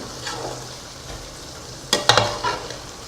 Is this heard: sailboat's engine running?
no